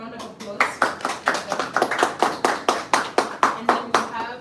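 A panel audience claps for a Ghanaian American film director, with distinct sharp claps in a steady rhythm, close and fairly loud, with no talk over it.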